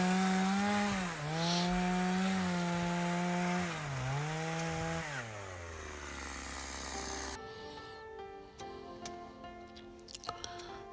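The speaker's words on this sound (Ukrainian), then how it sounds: "Ось так ми заводимо пилку зранку." A small chainsaw engine revs up and down in a couple of surges, then drops to a lower idle before the sound cuts to quieter background.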